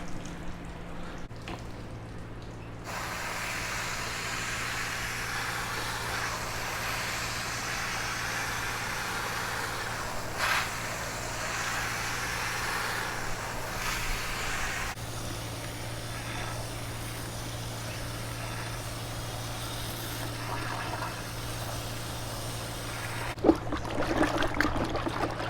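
Water rinsing a K&N air filter outdoors beside a car, a steady broadband spray and trickle running continuously, with a brief change in flow midway and a low constant hum underneath.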